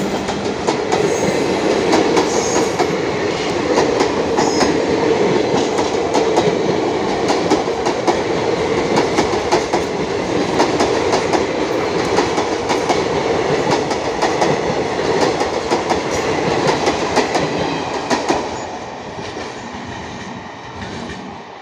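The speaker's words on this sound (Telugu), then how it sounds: "Visakhapatnam intercity super fast express" The Visakhapatnam Intercity Superfast Express passes near a station, a loud steady roar of rolling wagons with rhythmic clickety-clack from the wheels that holds for about eighteen seconds, then eases.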